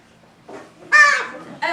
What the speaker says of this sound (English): A group of crows, they all live in one big family group